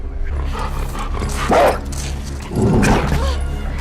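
A dog in The Last of Us Part II barks twice in short bursts over a steady low background hum, with faint snuffling between the barks as it sniffs.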